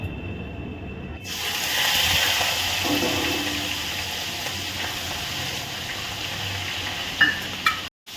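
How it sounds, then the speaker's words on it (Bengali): Prawns frying in hot oil in a pan give a loud, steady broadband sizzle. It swells after the first second and carries on continuously, with a few clicks and bumps near the end. "সবে তো চিংড়ি মাছটা ভাজা বসালাম"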